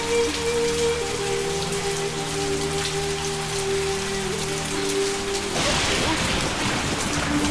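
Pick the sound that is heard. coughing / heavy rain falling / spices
heavy rain falling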